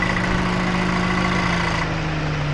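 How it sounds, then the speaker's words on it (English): A 2024 Toyota Tacoma's engine runs at a steady idle, a dense, even drone with a low hum that holds constant throughout. "that's a really weird sounding engine"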